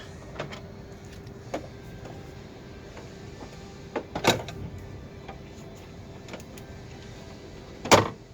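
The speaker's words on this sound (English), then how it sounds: "then the window regulator will drop down and we can remove that" Window regulator inside an Alfa Romeo GTV 916 door loosening and dropping, with scattered metallic clicks and clunks and two sharper rattling bangs, close and otherwise quiet.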